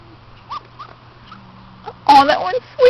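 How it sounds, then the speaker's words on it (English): A sleeping puppy lets out soft muffled whimpers and small yips, then a louder burst of sleepy barking near the end, close by in a quiet room. "It's barking in its sleep."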